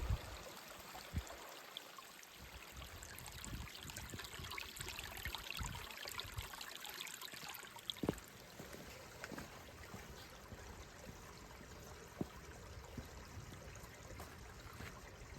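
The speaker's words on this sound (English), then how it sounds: "it's filtered from a mountain stream, so it should be nice and fresh" A Scottish Highland mountain stream trickles and babbles steadily in winter, a soft continuous wash of flowing water with occasional small splashes as a bottle is refilled.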